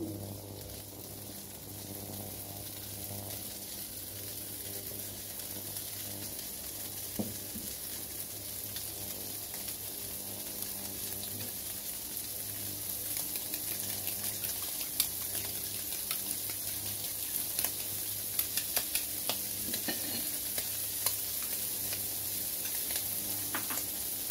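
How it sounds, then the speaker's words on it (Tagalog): An egg fries with shrimp in a pan, giving a soft continuous sizzle with scattered small pops that grow a little livelier, no voices heard. "So, maglalagay na tayo ng itlog. Ready na yung ating hipon."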